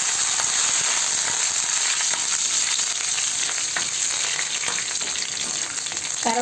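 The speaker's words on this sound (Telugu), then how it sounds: "ఆవాలు బాగా చిట్టపట్టమని చక్కగా వేగాలండి. తర్వాత కరివేపాకు 2 రెమ్మలండి" Mustard seeds and curry leaves crackle and spatter steadily in hot oil, a dense, close, continuous sizzle with no voices.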